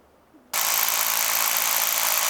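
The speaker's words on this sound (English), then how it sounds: "All right, the hole's drilled." A rock drill boring a bolt hole into rock kicks in abruptly after a short quiet moment, then holds a loud, steady, harsh high-pitched whir close by.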